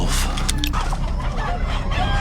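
Frightened chickens on a farm clucking and squawking in a loud, continuous, agitated burst, with several birds calling over one another close by.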